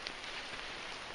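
Rain falls steadily at a camp in the Hoh Rain Forest among big spruce trees, a faint even hiss of drops on surfaces, with a couple of slightly sharper drip ticks near the start.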